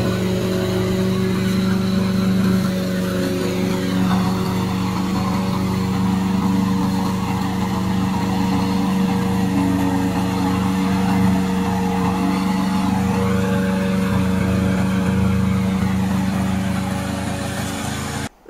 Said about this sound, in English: Today I'm glad to introduce our remote control lawn mower.